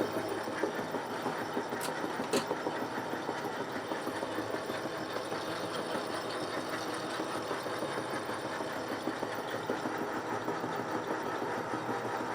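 A lathe cuts a thread with the half nut engaged, giving a continuous mechanical whir and hum with a faint rhythmic chatter and a couple of sharp ticks, no talk.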